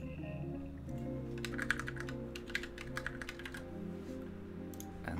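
Rapid keystrokes on a computer keyboard during software project work, a steady run of crisp clicks over a low constant hum, fairly close and continuous throughout.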